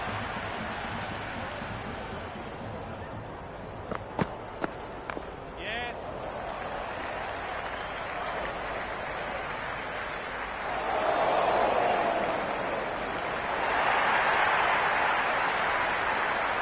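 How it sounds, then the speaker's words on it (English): A cricket stadium crowd in Cricket 26 roars in a steady wash, with a few sharp knocks early on and two louder swells of cheering later. A commentator talks over the crowd. "There's an almost tangible fervour throughout the crowd at the moment."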